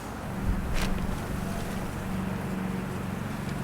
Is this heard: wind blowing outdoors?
yes